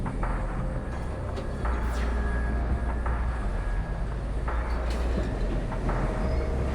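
Subway station from the game The Moment of Silence, with a steady low rumble of passing trains, rail screeches and metallic hum, loud and continuous throughout, with no voices.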